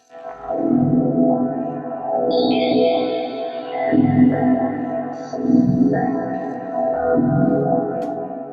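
A dreamy, swelling Viper synthesizer pad, the Atmosphere Dreams patch, with chorus and echo, slowly pulsing chords and faint high shimmering tones drifting above, loud and alone.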